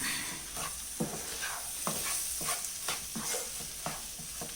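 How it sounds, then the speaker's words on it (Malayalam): Food sizzles in a pan while a spoon scrapes semolina through a thick masala mixture in steady, repeated strokes, close by with no talking. "നല്ലോണം മസാലയ്ക്കകത്തൊക്കെ മിക്സ് ചെയ്ത് ഇളക്കി കൊടുക്കാം."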